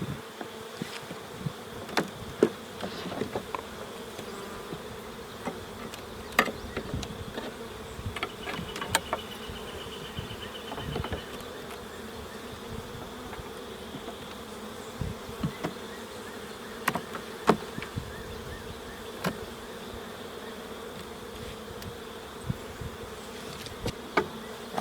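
Honey bees buzz in a dense, continuous hum around an open hive during a May inspection, with faint knocks and clicks of frames being handled close by.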